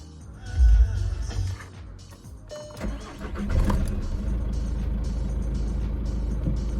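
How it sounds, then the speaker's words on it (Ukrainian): A Skoda Octavia A5 engine cranks briefly, catches, and revs up before settling into a steady, close idle that continues to the end. "Ну, ніби завівся автомобіль непогано."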